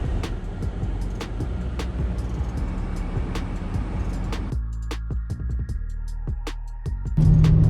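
A BMW with a rebuilt N52 engine cruises at about 160 km/h on the road to Nuremberg, giving a steady, loud low drone of engine and road noise with faint ticks, easing slightly partway through.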